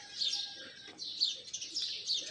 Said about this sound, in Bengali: সকালবেলা হলে পাখিদের ডাক